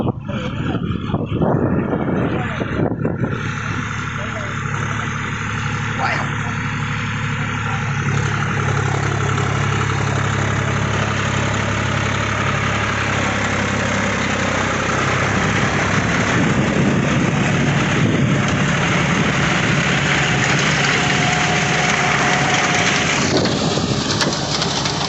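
John Deere 5045 4WD tractor engine running under load in first gear, a loud steady diesel drone that continues unbroken throughout.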